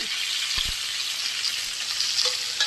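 Food frying in hot mustard oil gives a bright, continuous close sizzle, with a couple of quick low knocks and scrapes from a stirring utensil moving it around the pan.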